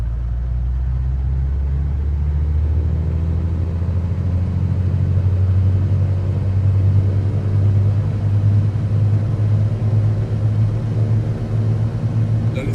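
The engine of a Carenado Cessna C182 RG II in a flight simulator runs up to 2000 RPM, holding as a loud, steady propeller drone with a deep throbbing rumble and no speech.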